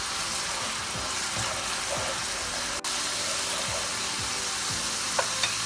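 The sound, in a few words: stirring Bengali fish curry (tel koi) frying in pan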